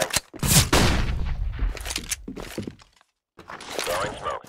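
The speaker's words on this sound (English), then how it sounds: "Flashbang." Flashbang grenade going off in the game Counter-Strike: Global Offensive on a bomb-mode map, a loud sharp burst with gunfire-like cracks that rings on briefly, a short silence, then more game noise.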